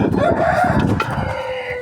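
A rooster crows once up close, a loud drawn-out call followed by a few clucking notes, with no one talking.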